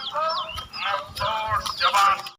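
Ducks give a series of nasal, honking quacks in quick overlapping bursts, close and fairly loud, with no voices over them.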